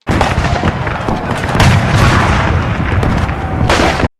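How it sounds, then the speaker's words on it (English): Civil War musket volleys as a documentary sound effect: dense, continuous, loud rolling booms and crackling reports overlapping throughout, ending abruptly. "Musket fire decimates them."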